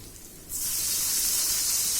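Tamarind water poured into a hot pan of golden fried shallots for Kerala ulli theeyal, bursting into a sudden loud, steady sizzling hiss that starts halfway through and continues unbroken, alone without talk.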